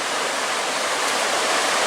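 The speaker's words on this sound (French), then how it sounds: "de l'eau, une belle rivière, en plus une belle rivière à truites" A trout river in Aveyron rushes with a steady, dense wash of flowing water, loud and close, unbroken for a couple of seconds.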